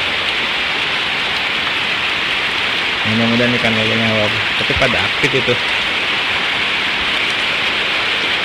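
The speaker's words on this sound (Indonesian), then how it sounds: "Hujan gede lumayan." Heavy rain pours steadily outdoors at a catfish farming site, a loud, continuous hiss throughout, with someone speaking briefly over it midway.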